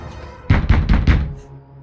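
Four firm knocks on a door in quick, even succession, loud and close, with no talk over them and a brief quiet tail afterward.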